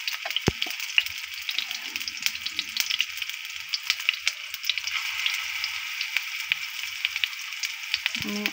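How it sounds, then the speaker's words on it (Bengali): Egg chops coated in gram-flour batter fry in hot oil, a steady dense sizzle running throughout, with a few soft clicks and a brief utensil knock near the start and end as the chops are turned. "এই যে আমি উল্টে পাল্টে চপগুলোকে ভেজে নিচ্ছি।"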